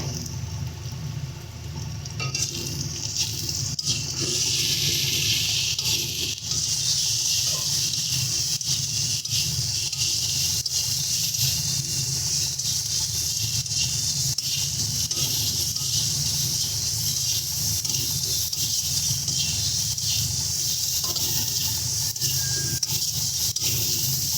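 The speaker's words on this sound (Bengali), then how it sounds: "একদম ভালো করে আমরা মশলাটাকে কষিয়ে নিচ্ছি।" Spice paste of chili powder and salt is fried and stirred in a pan while cooking a small-fish and green-mango dish, making a steady sizzling hiss with soft scraping underneath that continues evenly throughout.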